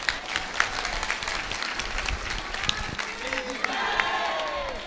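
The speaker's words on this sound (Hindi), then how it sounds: "अब ताली बजाओ।" An audience at a religious gathering breaks into sustained applause, a crowd clapping steadily with a few shouts and voices mixed in, swelling slightly toward the end.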